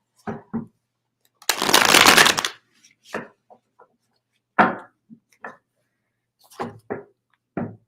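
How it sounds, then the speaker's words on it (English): A deck of cards riffle-shuffled once in a dense, crisp burst about a second long, surrounded by a few scattered taps and clicks of cards being handled. "I'm going to shuffle one more time."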